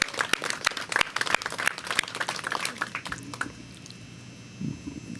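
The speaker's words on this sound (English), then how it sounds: "Let's give them a round of applause." Audience applause for local community group members at a mayoral announcement inside an NYPD precinct station, a dense burst of clapping for about three seconds that thins out and fades, leaving a quiet room.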